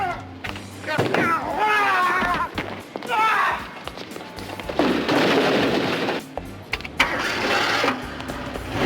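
Gunfire in a played crime film scene, a few sharp bangs among loud mixed movie audio, with actors talking and background score throughout.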